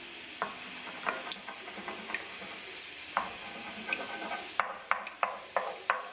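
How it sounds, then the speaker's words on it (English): Eggs scrambled in a hot pan during keto meal prep, with a soft continuous sizzle and scattered scraping stir strokes that turn into sharper clicks near the end, heard close with no talking. "and we just scramble those eggs"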